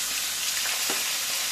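Boiled carrots, cauliflower, beans and peas fry in hot oil in a steady, close sizzle, with a brief stirring scrape near the middle.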